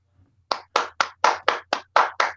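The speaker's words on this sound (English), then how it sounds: "Round of applause, man." Eight firm hand claps ring out close and alone in an even, unhurried rhythm, each a sharp slap with a short tail, over a faint low hum.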